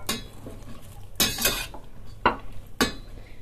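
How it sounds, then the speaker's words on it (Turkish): Spoon stirring peppers in a pot for a quick oily pepper pickle, giving a few separate scraping, clinking strokes against the pot with quiet pauses between them. "Güzelce karıştıralım."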